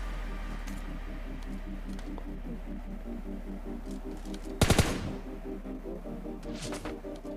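Gunfire in a mobile battle royale shooter: a short, sharp burst of about three shots rings out mid-clip over steady background game sound.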